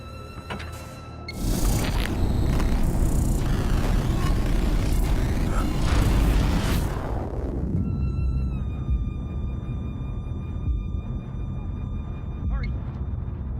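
An explosion in the video game Get Even bursts into a loud, roaring wash of noise that lasts several seconds before settling into a quieter hum with steady electronic tones.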